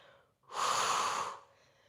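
A strong, steady breath pushed out for about a second during a Pilates leg-lengthening move in a full-body workout, broadband and airy, close and fairly loud, with no talk over it.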